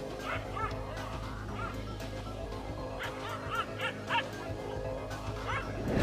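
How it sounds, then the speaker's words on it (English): A small dog barks in quick, sharp yips at two wild African lions outdoors, moderately loud over a steady low rumble of background noise. "This brave little dog barks his disagreements to not one, but two wild African lions"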